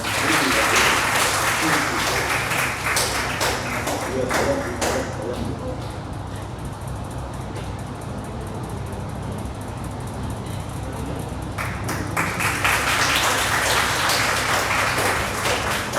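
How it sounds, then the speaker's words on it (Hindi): An audience at a college essay and elocution competition claps for a named student, loud dense applause at the start that thins in the middle and swells again toward the end. "तालियां।"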